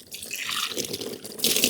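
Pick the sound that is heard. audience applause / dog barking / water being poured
water being poured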